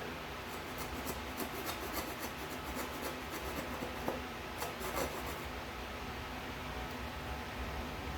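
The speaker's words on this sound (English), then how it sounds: "Let's see if I can file it" Steady rasping strokes of a hand file on an eight-string guitar build, back and forth at an even rhythm, close and fairly quiet with no voices.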